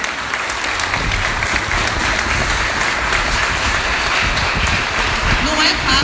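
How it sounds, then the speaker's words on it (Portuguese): Audience applause fills a municipal party office inauguration at a political event, a dense steady clapping from a large crowd lasting throughout, close and loud. "eu queria uma salva de palmas"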